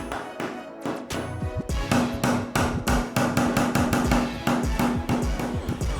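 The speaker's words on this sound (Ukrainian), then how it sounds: "Потім беремо цвяшки і молоток і збиваємо пару відрізків дерев'яшок разом." Rapid, steady hammer blows drive nails to join pieces of wood up close, a continuous run of sharp knocks with a ringing metallic tone underneath.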